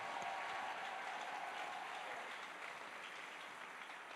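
A church congregation applauds the Lord during a French-language sermon, steady dense clapping from a crowd, moderately loud and sustained throughout without speech.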